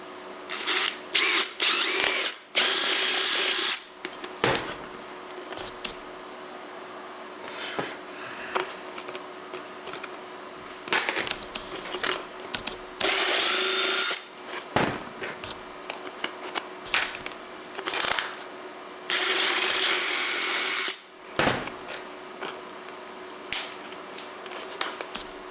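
A power drill drives a screw while a homemade fog buster for a CNC router is being assembled, loud repeated whirring bursts of a few seconds each, separated by short pauses and clicks, with no speech.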